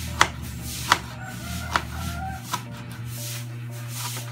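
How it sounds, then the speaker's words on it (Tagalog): Knife chopping onion on a board while preparing native lechon manok, four distinct sharp cuts spaced irregularly over a steady low background hum. "Tapos, suwatan ng sibuyas."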